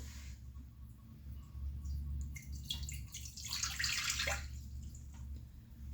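A cup of water is poured into a mixing bowl while making a cake, a close splashing pour that swells mid-way and then trails off, with a faint low hum underneath and no talking.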